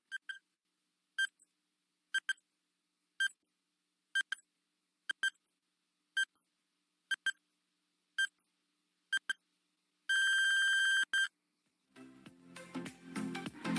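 Quiz-show countdown timer giving ten evenly spaced electronic beeps about a second apart, then a long sustained buzzer tone marking time up, followed by a burst of music.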